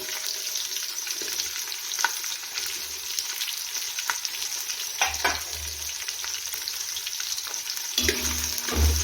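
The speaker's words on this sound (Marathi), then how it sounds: "फ्राय करून घेऊया जास्त लालसर पण करायचा नाही हलकासा कांदा फ्राय करून घेऊया" Chopped onion and green chilli fry in hot oil with whole spices: a steady close crackling sizzle runs throughout, with occasional stirring scrapes and low clunks.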